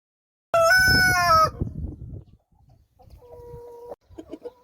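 A rooster crows loudly once, a harsh stretched call, followed by a few softer clucks and short calls nearby.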